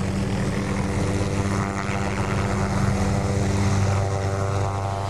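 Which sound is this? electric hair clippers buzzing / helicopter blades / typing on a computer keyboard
helicopter blades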